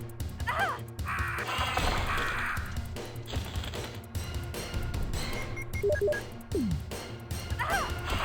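Crows caw in the Resident Evil video game, several short harsh calls scattered over constant game music and ambience, with crashing thuds in between.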